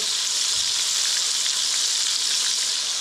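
Beer-battered catfish pieces fry in hot oil, giving a steady, loud, close sizzle and crackle that fills the whole stretch without a break.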